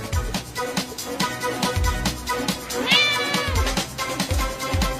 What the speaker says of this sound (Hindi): ओह, अच्छा बिल्ली है।